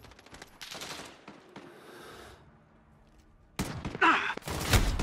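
Gunfire in the game Call of Duty: Modern Warfare during a hardcore Domination match crackles in short bursts early on, fades to a quiet stretch, then returns as louder, rapid bursts near the end.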